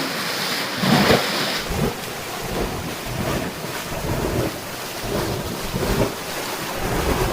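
Water released from the Gandipalem dam gushes and roars in a loud, continuous rush, with surging swells that rise and fall, close by and with no voices.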